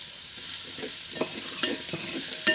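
Sliced onions frying in a pan for beef biryani, a soft steady sizzle broken by several sharp clinks and scrapes of stirring, close by, with no talking.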